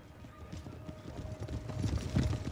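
Cavalry horses' hooves in a strategy video game, a steady stream of clip-clop steps from many mounts building slightly louder over the clip, with faint whinnies mixed in and no talk.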